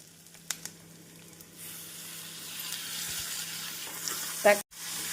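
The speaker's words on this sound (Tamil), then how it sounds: "வெங்காயம் இஞ்சி பூண்டு விழுது இந்த அளவு நன்றாக வதங்கவும் தக்காளியை சேர்த்து விடலாம்" Onion, ginger-garlic paste and tomato sautéing in a pan for a potato peas masala, a faint hiss that thickens into a steady sizzle, with a couple of soft clicks and a brief louder scrape near the end.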